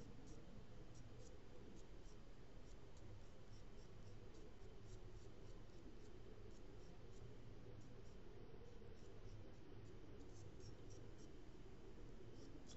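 Continuous scratchy pencil shading on paper, a soft steady rasp of graphite strokes held close and sustained throughout, with no voices.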